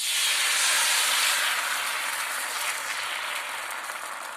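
Malvani fish shallow-frying on a flat tawa, giving a loud, dense, even sizzle and hiss close by that fades a little over a few seconds, with no voices.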